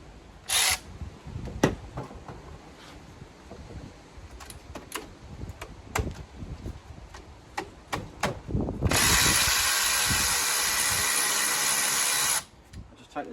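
A power tool whirs through short bursts and one long sustained spin while removing brake caliper bolts on a Citroen DS3, among scattered metallic clicks and knocks, with some talk nearby.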